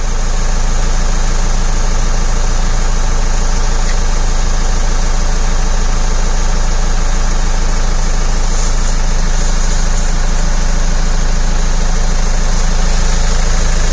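A compact WOSCHER portable tyre inflator runs steadily while pumping up a car tyre, a loud continuous motor drone with buzzing vibration that holds unbroken from start to finish, close to the listener, with no voices.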